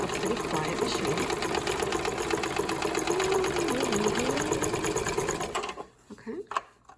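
A vintage Dressmaker S-2402 sewing machine running a zigzag stitch, a loud, close, rapid steady whir that stops near the end. Faint talk sits under the motor.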